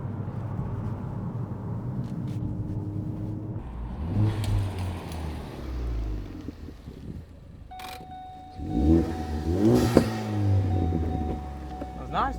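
A car fitted with a homemade, zero-cost exhaust system accelerates, its engine note rising in pitch through the gears in loud, close revving sweeps, with speech heard alongside.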